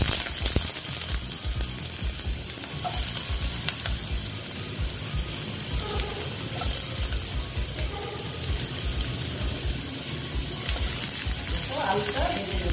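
Potatoes frying in oil in a pan, a continuous loud sizzle with occasional faint stirring and kitchen clatter throughout.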